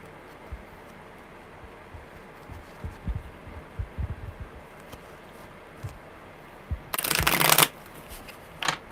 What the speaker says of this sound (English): There we go, a good shuffle.